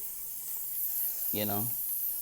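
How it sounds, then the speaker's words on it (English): A short hiss of cooking pan spray misted over chicken, a brief burst at close range above a steady background hiss. "And then I'm going to take the pan spray and just kind of give it a nice little"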